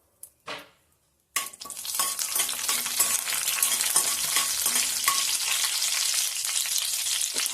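Bay leaves frying in oil in a pan for a Konkan-style suran (elephant foot yam) bhaji, a steady close sizzle with stirring clatter that starts after a brief quiet knock and keeps going.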